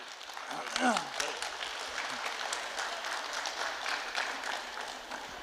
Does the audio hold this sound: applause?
yes